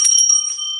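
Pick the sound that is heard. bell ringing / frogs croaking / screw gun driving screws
bell ringing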